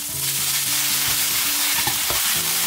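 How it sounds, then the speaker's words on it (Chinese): Spinach with minced garlic is stir-fried in a wok, producing loud continuous sizzling with a few quick scraping tosses of the spatula over a short burst. "简单翻炒两下"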